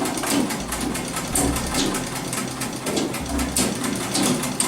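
A sewing machine stitches cloth in short bursts, its low motor hum starting and stopping over a steady busy background.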